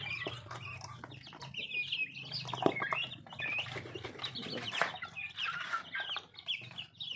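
Turkeys on a small Indonesian poultry farm kept alongside Bangkok chickens and Muscovy ducks, giving repeated clucks and calls amid a busy, continuous chorus of fowl, fairly close and steady throughout.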